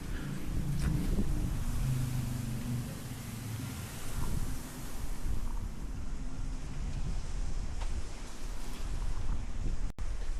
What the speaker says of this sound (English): It's really windy, whipping all around me here, as you can probably see from the foliage.